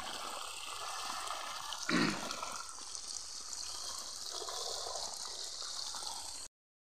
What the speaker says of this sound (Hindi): ଟମାଟୋ କ୍ୟାରିରେ ପାଣି ମଡ଼ା ହେଉଛି।